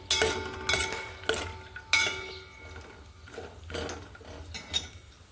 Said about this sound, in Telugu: డ్రై ఫ్రూట్స్ని వేయించుకోవాలి జీడిపప్పు బాదము కిస్మిస్ తీసుకున్నానండి నేను చూడండి వీటిని నేతిలో చక్కగా దోరగా వేయించుకొని